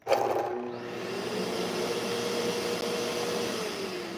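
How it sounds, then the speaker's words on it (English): A vacuum extractor connected to a Fellow Ode Gen 2 coffee grinder switches on with a brief surge, then runs as a steady, fairly loud whooshing hum with no talking. "you can hear the vacuum turn on"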